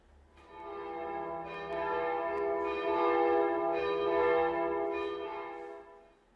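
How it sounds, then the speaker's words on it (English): Church bells across Bordeaux peal together for All Souls' Day, a dense, sustained clangour of overlapping tolls that swells and stays loud throughout, with no voices. "as all the bells of Bordeaux rang out for All Souls' Day"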